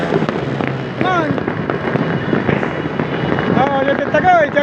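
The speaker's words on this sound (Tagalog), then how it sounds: "Dahil sa paputok natin yun" Fireworks and firecrackers bursting at a New Year's Eve rooftop celebration, with dense crackling and booms mixed with loud crowd noise, shouting and whistling streaks throughout.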